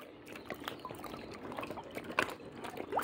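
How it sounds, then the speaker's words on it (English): Water trickles and splashes softly as it is poured and sipped, with small close gulps and liquid sounds that stay quiet and brief and are heard alone. "I'm drinking some water."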